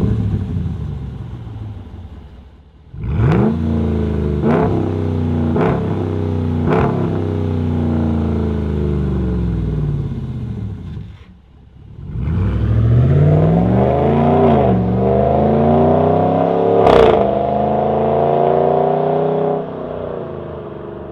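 A Dodge Ram pickup's 5.7-litre Hemi V8 with a new aftermarket exhaust system revs loudly, deep rumbling climbs and falls with several sharp blips, a pause, then another long rising run of throaty revving close by.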